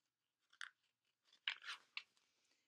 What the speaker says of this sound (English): Don't chew gum in class.